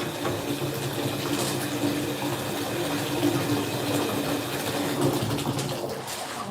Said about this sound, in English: I'm gonna drain some of the water down